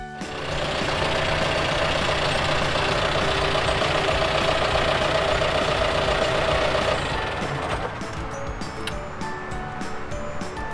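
A big tractor engine idles with a loud, steady, broad rumble that stays close and constant, then drops to a lower, rougher level for the last few seconds.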